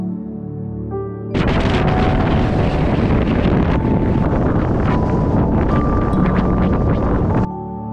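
Strong mountain wind buffets the microphone near a 2073 m summit in February, a loud, roaring rumble that starts abruptly after a quieter moment and holds steady for several seconds before dropping away.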